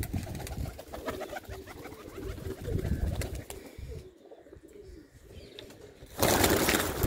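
Pigeons coo close by in soft, repeated throaty bursts over a rustling background, ending in a sudden louder wash of noise.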